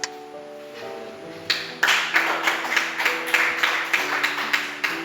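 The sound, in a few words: church congregation clapping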